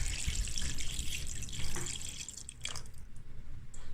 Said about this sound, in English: I'm just gonna go ahead and add back the liquid because now it's cool